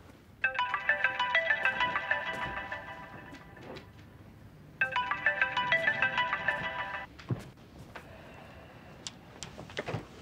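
A telephone ringtone rings out in two long bursts of a few seconds each, separated by a short pause, clear and fairly close: an unwanted late-night call going unanswered.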